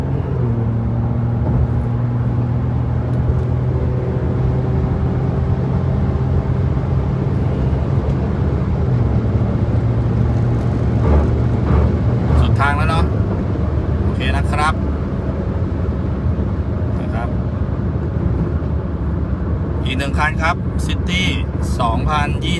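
A remapped 2020 Honda City sedan kicks down to overtake at 120 km/h, its engine hum rising steadily in the first half, then droning on under someone talking over the road noise.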